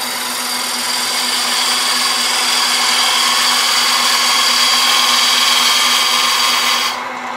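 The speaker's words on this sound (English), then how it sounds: "Got a little quarter inch detail gouge for this sort of thing." A quarter-inch detail gouge cuts a wooden box spinning on a lathe, giving a steady, continuous scraping hiss over the motor's hum. It runs evenly for several seconds, then eases off near the end.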